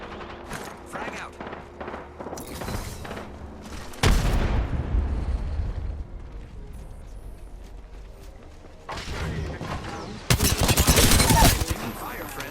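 Gunfire in the video game Apex Legends comes in loud bursts, with a dense rattle of shots at the start, a heavy blast near the middle and two more intense volleys toward the end, mixed with game effects and a voice.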